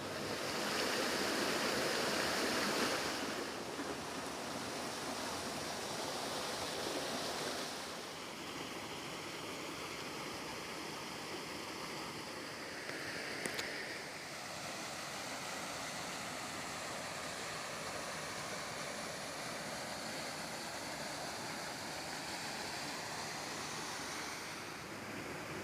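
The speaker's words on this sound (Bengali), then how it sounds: "সেই বাঁধ থেকে জল বেরোচ্ছে" Water rushes out of a government dam into an irrigation canal in rural Bengal, a steady broad roar with wind buffeting the microphone, louder at the start and continuous throughout.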